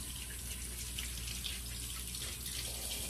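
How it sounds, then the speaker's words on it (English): Tap water runs steadily into a sink while a face scrubber is rinsed, a continuous close splashing hiss with no talking. "And now, we have to rinse off the scrubber."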